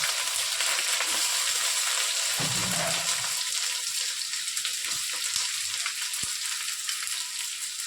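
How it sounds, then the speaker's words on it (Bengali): Chopped onions hit red-hot oil while cooking a thin mutton and potato curry, giving a loud, steady, close sizzle that crackles on without pause; there is no talking. "যেই তেলটা লাল হয়ে এলো তখনই আমি পেঁয়াজ কুচিগুলো দিয়ে দেবো।"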